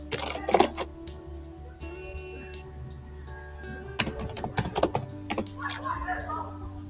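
Typing on a computer keyboard while filling in recipients and subject for a Gmail calendar invite: bursts of quick key clicks at the start and again around the middle, with soft taps between, close and fairly loud.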